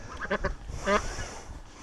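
A duck hisses and honks hoarsely while being held for medical treatment at a home rescue, a few short raspy bursts up close, with quiet background rustling.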